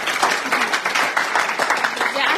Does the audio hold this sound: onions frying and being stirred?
no